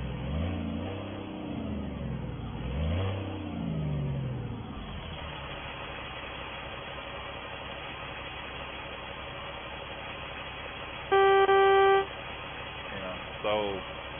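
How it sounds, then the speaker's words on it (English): A Kenworth W900B heavy wrecker truck engine in an SCS truck-driving game rumbles and rises in pitch as it revs, then settles into a steady idle under talking, with a brief loud horn-like tone near the end. "the engine sounds, and for the transmission, possibly"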